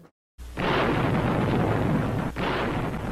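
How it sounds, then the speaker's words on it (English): Artillery bombardment of Tinian fired from Saipan, in World War II archival film: a dense, continuous roar of heavy gunfire and explosions after a brief silence, loud and sustained, with one short dip partway through. "Long-range bombardment of Tinian from Saipan began to reach a climax on Jig-9."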